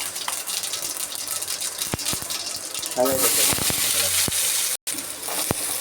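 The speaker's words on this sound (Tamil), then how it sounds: "எண்ணெய் சூடானதை கடுகு சேர்த்துப்போம். கடுகு ஜீரகத்தை சேர்த்துப்போம் நண்பர்கள்" Mustard seeds and cumin hit hot oil and burst into a loud crackling sizzle partway through, with scattered pops and a brief cutout, following a quieter stretch with a voice speaking.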